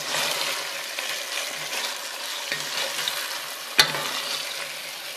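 Meat is stirred back into a vegetable stew in a pot, giving soft sizzling and scraping stirs with one sharp clack of the utensil against the pot, close and moderately quiet, with no talk.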